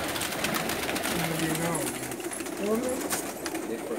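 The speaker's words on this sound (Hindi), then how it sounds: "उनके शागिर्द अहमद फ़रज सरवर साहब, ये जो कबूतर पकड़ के दिखा रहे हैं" Saudi breed pigeons coo in low, rolling calls amid a busy, noisy background, with people talking nearby.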